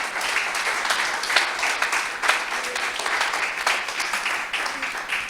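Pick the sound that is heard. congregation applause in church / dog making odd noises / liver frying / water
congregation applause in church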